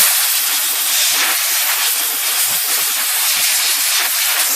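Compressed air blasting cleaning spray off the carriage of a vintage Royal QDL typewriter, a loud, continuous close-up hiss that holds steady without a break.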